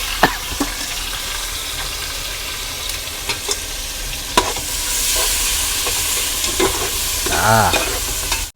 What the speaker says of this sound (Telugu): ఉల్లిగడ్డలు ఓ పరపర పరపర అంటుంది నాయన నీళ్ళతో టమాటాలు పరవ వెళ్ళబోయింది అందుకనే పరపర అంటుంది